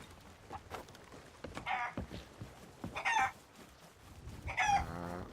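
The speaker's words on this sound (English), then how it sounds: "I grabbed a golden chicken, because I've not sold a golden chicken before." A golden chicken in the Sea of Thieves video game clucks and squawks in a few short bursts, fairly quiet over a soft ambient background of game noise.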